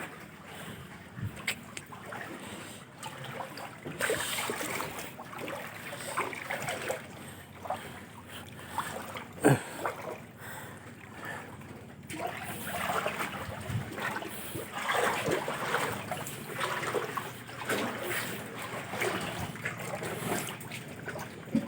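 A small boat moves slowly through floodwater during Typhoon Kristine, with sloshing, trickling and occasional splashes and knocks, faint and somewhat distant against a background hush.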